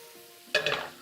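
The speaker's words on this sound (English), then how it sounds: "I'm just gonna give these mushrooms kind of like a toss" Mushrooms tossed in a hot pan: after a low, steady background hum, one short burst of sizzling and rattling rises suddenly and then settles.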